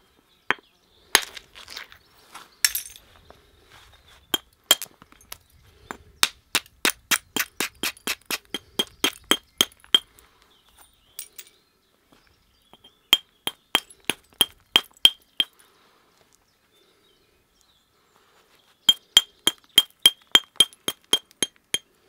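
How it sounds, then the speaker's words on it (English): Flint struck while knapping a dagger, a long run of sharp, glassy clinks and cracks in quick regular bursts with short pauses, close and crisp against a quiet background. "it just means we're going to take this piece of flint back a bit."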